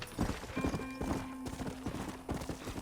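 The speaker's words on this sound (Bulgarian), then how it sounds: "Мога да си извикам коня." Horse hooves clip-clop in a steady, rhythmic gallop in the Red Dead Redemption video game, fairly faint and close, with no talk over it.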